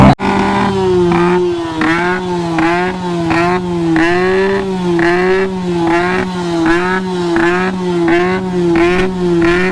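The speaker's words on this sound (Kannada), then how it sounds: "ಬೈಕು ಲೌಡೆಸ್ಟ್ ಬೈಕ್ ಚಾಲೆಂಜಲ್ಲಿ 125 ಡೆಸಿಬಲ್ಸ್ ಆಗಿದೆ ಇದುವರೆಗೂ." A modified Yamaha RX motorcycle revs extremely loudly at a loudest-bike competition in Bangalore, its engine throbbing in steady repeated pulses for nearly ten seconds with no pause.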